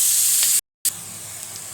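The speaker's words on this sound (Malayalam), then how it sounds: "അതിലേക്ക് നമുക്ക് കുറച്ച് ഉപ്പും ഇട്ട് കൊടുത്തിട്ട് നന്നായിട്ടൊന്ന് വഴറ്റിയെടുക്കാം" Onions sautéing with salt and ginger in a pan, a steady loud sizzling hiss close by, briefly cut to silence midway before resuming.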